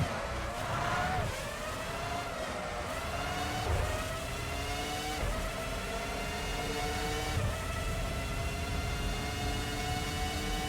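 Formula One cars in Formula One 05 whine along the pit lane, a steady high-pitched engine drone with repeated rising and falling tones as cars pass, moderately faint and continuous.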